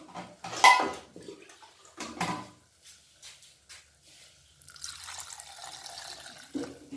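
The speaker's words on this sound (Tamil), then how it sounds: "இந்த சமயத்தில் தண்ணி சேர்த்துக்கிடுவோம்" Water splashes and trickles into a pot after a few clinks of cookware, settling into a steady, moderately close pouring sound.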